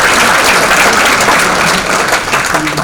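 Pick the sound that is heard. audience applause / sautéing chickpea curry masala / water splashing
audience applause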